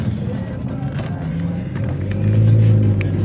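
A car engine revs and accelerates nearby on a road in Salt Lake City, Utah, the rumbling drone swelling louder toward the end with traffic noise around it.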